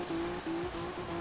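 A tuned, turbocharged car engine in the Forza video game hums in a steady drone with brief dips, sounding close and moderately loud, with no talking.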